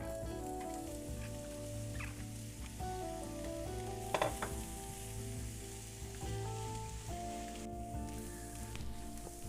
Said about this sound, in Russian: Обжариваю лучок репчатый.